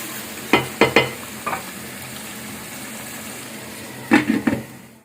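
Tomato paste being stirred into chicken karahi in a pan: steady background sizzle with a few short clustered scraping and stirring knocks, one group early and another near the end.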